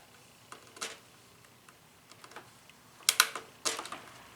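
Scattered small clicks come from a computer component being wiggled and pressed down onto its pins during a PC build, sparse at first, then a sharper cluster of close, crisp ticks toward the end, with no voices.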